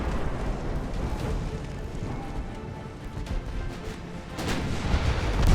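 Naval cannon fire in the warship game Ultimate Admiral Dreadnoughts: a dense, rumbling wash of heavy gun reports and explosions, loud and continuous, swelling near the end.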